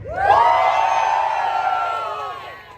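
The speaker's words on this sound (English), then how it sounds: "Crowd for the G8, let me hear you." At a rev battle between a stage 3 cammed Pontiac G8 GT and a cammed Cadillac CTS-V, a close crowd cheers loudly for the G8 with whoops and yells, swelling quickly and then fading over a few seconds.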